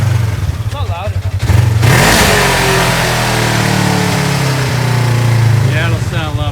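A Polaris RZR with its stock exhaust revs hard, the engine climbing from idle into a loud sustained roar before settling back, with people talking nearby at the start and end.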